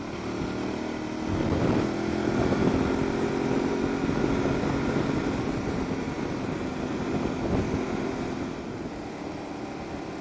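A 2022 Aprilia Tuareg 660 motorcycle engine drones steadily while riding, held in a higher rev range, with a moderate hum and wind noise throughout.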